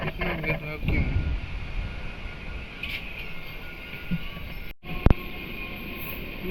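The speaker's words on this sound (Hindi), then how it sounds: "लोकल ट्रेन भी हमें ओवरटेक करके जा रहा है।" A local train rumbles past at close range, overtaking, with steady rail and wind noise, a brief sharp clank near the end.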